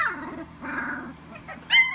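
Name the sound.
dogs growling and barking at each other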